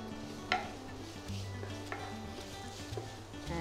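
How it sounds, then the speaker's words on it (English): Spring onion bulbs and greens sautéing in a pan for sesame chilli potato, a faint steady sizzle with a few light utensil taps and scrapes against the pan. "So we'll just saute this for a few seconds."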